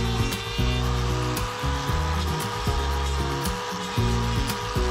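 Power tool trimming the medial claw of a cow's hoof before work on a white line problem in the lateral claw, a repeated grinding rasp broken by short gaps and bursts.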